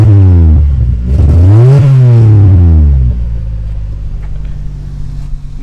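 Lexus ES250 engine and exhaust revving loudly up and then falling back, a rising and dropping drone before settling into a steady, lower idle.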